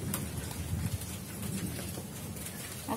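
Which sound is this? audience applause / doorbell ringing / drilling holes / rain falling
rain falling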